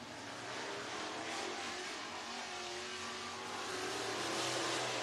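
Modified race car circling the Talladega Short Track during Saturday night NASCAR qualifying, a steady engine drone rising slightly as it accelerates, with no talk.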